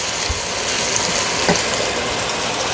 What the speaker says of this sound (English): I'm just going to go ahead and add the shrimps and the sausage.